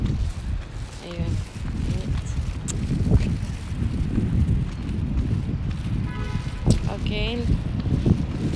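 Strong wind blows steadily in an outdoor setting in China, a constant close rushing roar buffeting the microphone, with faint voices and small movements mixed in.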